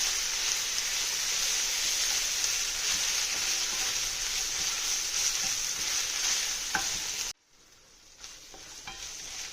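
Onion and ginger paste frying in a pan, a loud, dense, continuous hiss of sizzling oil that abruptly drops to a much quieter sizzle near the end.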